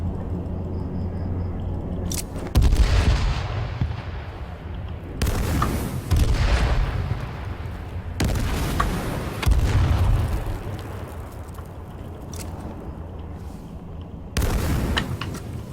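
Several loud booming grenade blasts in the video game H1Z1: King of the Kill burst out one after another, with rumbling noise and crackle between them, close and heavy.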